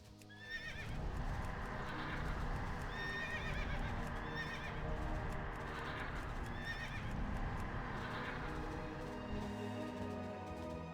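Horse hooves clip-clop steadily while riding in WoW Classic Cataclysm, with repeated whinnies and neighs rising over a dense, continuous game soundscape, close and fairly loud throughout.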